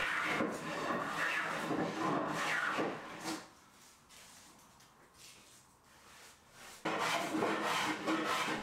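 Scrub plane taking shavings from both edges of a warped wooden board for a waney edge cutting board, heard as loud rasping strokes, one long pass, a quieter pause, then another forceful stroke.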